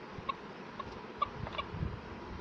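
A chicken in a video game clucks in a few short, faint squawks spaced irregularly over a quiet low background.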